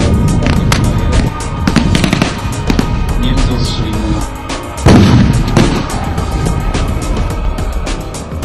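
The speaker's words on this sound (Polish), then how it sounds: "o właśnie tutaj słyszymy różne wystrzały, też można poczuć się jak na prawdziwym polu bitwy" Assorted gunfire and booming blasts ring out at a military reenactment event, a dense stream of sharp cracks and heavier thumps with crowd noise underneath, loud and continuous throughout.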